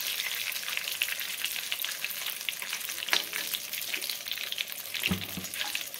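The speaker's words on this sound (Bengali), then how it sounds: "দেখুন ধীরে ধীরে তেলের আওয়াজটা" Slices of raw green banana frying into chips in hot oil give a dense, even crackling sizzle, close and steady, with an occasional soft knock from a utensil and no talking.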